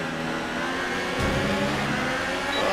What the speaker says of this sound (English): Just that Ferrari engine.